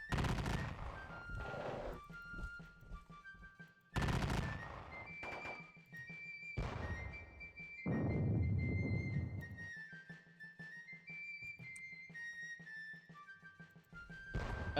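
Volleys of musket gunfire in a Gettysburg Civil War strategy game, with repeated loud crackling bursts followed by rumbling echoes and quieter scattered shots between them.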